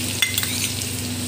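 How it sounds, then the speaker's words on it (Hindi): Chopped garlic sizzling in hot oil with curry leaves for Rajasthani besan gatte curry: a steady close frying hiss with a few light clinks of a spoon stirring in the pan. "और अब इसमें डाला लहसुन, लहसुन"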